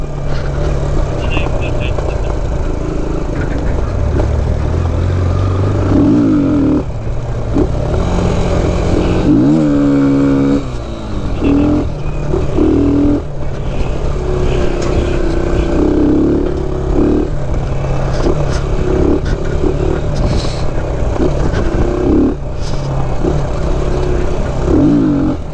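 A vehicle engine roars and revs hard on a rough Cornwall green lane, the drone steady and loud with rising, wavering pitch as the clutch slips or a wheel spins, and someone talks over it.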